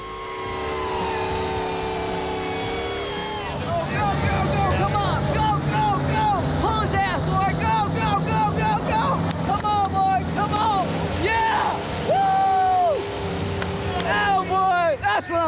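Monster truck engines roar loudly and rev repeatedly, their pitch climbing and falling in rapid surges over a steady rumbling background that grows louder after the opening seconds.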